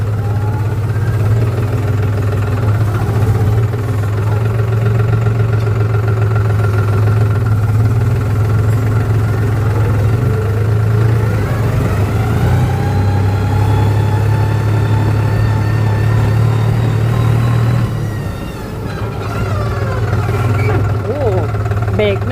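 A 2023 New Holland TT3.50 Plus four-wheel-drive tractor runs with a steady, loud, low diesel drone that shifts briefly near the end, while someone talks over it.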